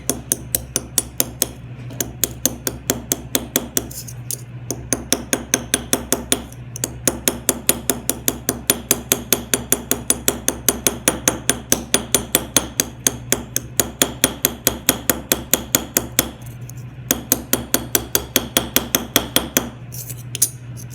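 Rapid, steady taps from a rounded hammer ring on a metal jewelry rivet, shaping its nail head, loud and close, in quick runs broken by brief pauses.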